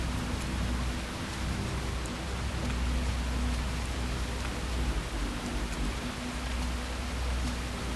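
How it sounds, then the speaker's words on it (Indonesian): Heavy, steady rain pours throughout a scene in the survival video game Nuclear Day Survival, a dense, even hiss with no pauses and no talking. "Hujan masih deras ya kan."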